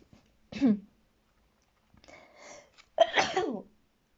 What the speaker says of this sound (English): I did not anticipate sneezing.